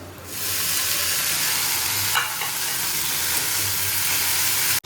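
Greens fry in a pan with garlic, green chilli and black cumin, giving a loud, continuous oily sizzle with a brief stirring scrape midway, and no talking.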